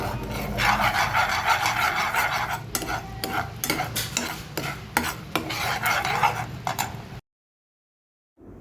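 Jaggery syrup is stirred in a pan for ragi laddu, giving close, repeated scraping strokes of spoon against metal in a steady rhythm before stopping abruptly into silence.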